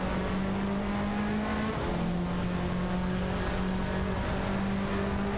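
A Honda Civic and an Audi TT Cup race car in a video game hum along continuously in a steady engine drone, no talk over the sound.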